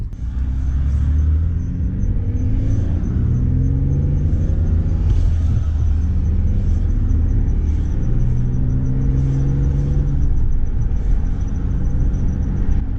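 Steady low engine rumble and road noise from a Mitsubishi VR4 driving on new tires, continuous and even throughout, with no talking.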